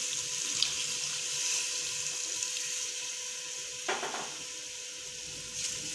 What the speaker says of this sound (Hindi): 1 कप के करीब हम लोग इसके अंदर पानी ऐड करेंगे